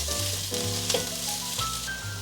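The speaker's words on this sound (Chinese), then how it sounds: "现在放入杏鲍菇和香菇，继续翻炒" Shiitake and king oyster mushrooms stir-frying in a hot wok give a steady, close sizzle with faint scraping from stirring, no talk.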